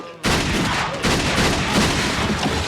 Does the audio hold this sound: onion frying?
no